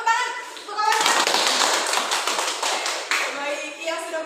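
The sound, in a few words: children clapping hands, applause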